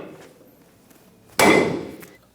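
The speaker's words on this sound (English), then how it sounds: "use a hammer and hit the knuckle to release the pressure on the upper ball joint" A single sharp hammer blow strikes the steering knuckle of a 2005-2010 Toyota Tacoma to free the upper ball joint, a loud metallic clang that rings and decays against a quiet garage background.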